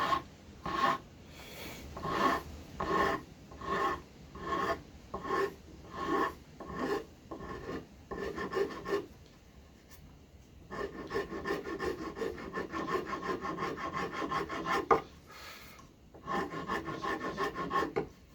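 A hand file rasps across wood to round over an edge, a close run of rhythmic back-and-forth strokes, a short pause, then slower, longer scraping passes.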